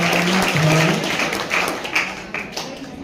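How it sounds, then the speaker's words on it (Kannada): A school audience at a singing competition breaks into loud, sustained clapping that fills the hall. It thins into scattered claps toward the end, with a faint voice underneath. "ಜೋರಾದ ಚಪ್ಪಾಳೆ ಮೂಲಕ"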